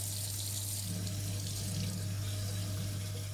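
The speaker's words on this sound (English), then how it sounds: "Giving the old jar a rinse as well as we go." A kitchen sink tap runs steadily while a jar is rinsed under the stream, a continuous close-up splashing hiss over a low background hum.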